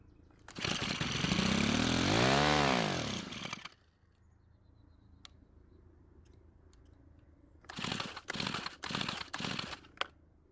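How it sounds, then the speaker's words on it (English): A Stihl string trimmer's small two-stroke engine, running on fuel poured into the carburetor throat, roars loudly for about three seconds with a rising and falling pitch, then cuts out into quiet, followed later by several sharp, choppy bursts as it sputters back. "the engine started and ran with the fuel that I put into the carb's throat"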